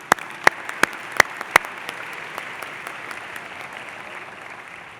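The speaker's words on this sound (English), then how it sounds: "Let's give you guys a round of applause." Sparse applause from a graduation commencement audience: a few sharp separate claps at the start, then a thin, steady patter of scattered clapping across the hall, moderately distant and fairly quiet.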